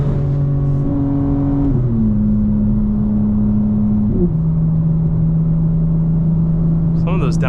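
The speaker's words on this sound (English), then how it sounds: "Some of those downshifts are so brutal" A fully modified 2025 BMW M4 Competition xDrive drones loudly from inside the cabin, its engine note dropping in abrupt steps through successive downshifts, each with a short blip, ending in a brief crackle.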